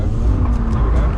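A car engine drones loud and low from inside the cabin during a drift session with a Golf R, E36 or M140i, holding a steady roar with faint voices beneath it.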